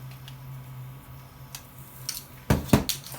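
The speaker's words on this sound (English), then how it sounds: "I'm going to take the other controller, unwrap it" A PlayStation 2 Slim controller is unwrapped from its plastic packaging. A few faint ticks come first, then a short burst of loud, close crinkling and rustling near the end.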